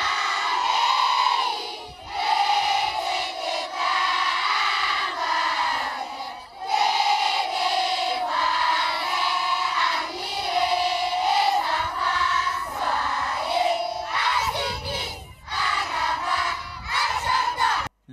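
A crowd of guests at a gathering at a site for Chadian returnees from the Central African Republic raises loud, sustained cheers and shouts. The voices blend with brief dips between waves.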